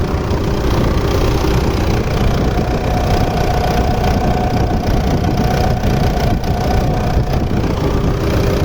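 A 2011 Mitsubishi Pajero Sport diesel engine idles steadily, heard close up as an even, continuous mechanical drone with a faint ticking texture and no change in pace.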